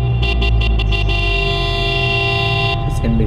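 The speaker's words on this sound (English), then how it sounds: "isn't that a Honda horn?" A 1997 Honda Civic Type R EK sounds its horn in a string of short honks, then one longer blast, all loud and close over a steady engine hum.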